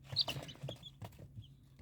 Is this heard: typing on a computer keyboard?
no